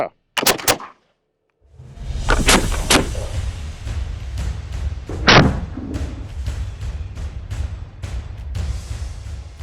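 Sharp, loud cracks from a redcoat flintlock musket volley, several shots in quick succession at the start, followed by a short gap and then rumbling, echoing booms and scattered reports.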